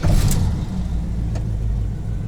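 A 1980 Pontiac Firebird engine runs steadily just after starting, a loud, close, low rumble that holds for a couple of seconds with no talk over it.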